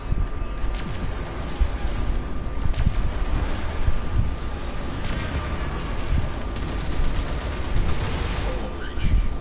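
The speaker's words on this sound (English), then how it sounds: "Heavy ordnance. Fire torpedoes." Heavy ordnance firing in the space-combat sequence of the video game Warframe: dense, continuous rumbling barrage with repeated booming launches and crackling bursts, loud and sustained throughout with no pause.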